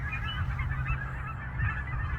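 Geese honk on the water, a dense continuous chorus of many birds calling over each other, steady and moderately close.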